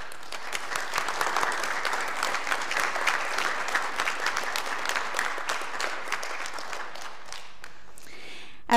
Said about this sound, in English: So if you please give them a round of applause.